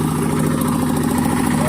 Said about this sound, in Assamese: এইখান হৈছে কি হয়, কিৰ্লস্কাৰৰ পাৱাৰ টিলাৰ